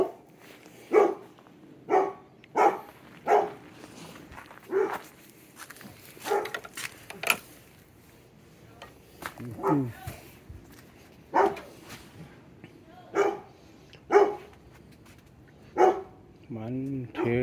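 Neighbours' dogs bark in a back yard in Calgary, short loud woofs repeating at roughly one-second intervals in uneven bursts, fairly close, with a voice heard briefly among them.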